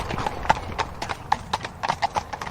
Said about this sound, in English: Two horses coming towards us now, and with riders.